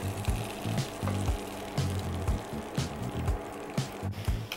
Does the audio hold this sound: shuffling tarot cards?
no